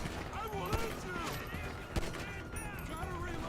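Gunfire in the video game GTA 5, with several sharp shots in a busy mix over game sound and background chatter.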